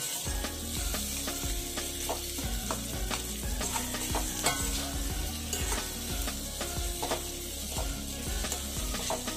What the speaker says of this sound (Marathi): तर व्यवस्थित मिक्स करून घेऊया ती भाजी पूर्ण आपण।